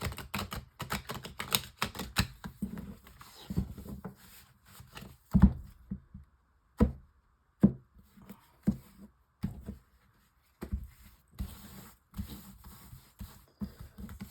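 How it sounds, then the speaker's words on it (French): Tarot cards of an illumination deck are shuffled and laid out for a nine-card spread, giving close, dry flicks and taps in quick bursts broken by short quiet gaps. "je prends le tarot de l'illumination pour le tirage en 9 cartes pour nos amis poissons"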